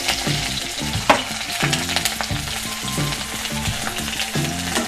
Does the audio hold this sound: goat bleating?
no